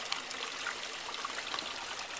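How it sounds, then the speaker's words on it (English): Water flows through an aquaponics fish tank for aeration as a constant, hissy trickle and splash with no pauses. It sounds close and moderately quiet, with no voices. "it's more of a constant flow to aerate the water"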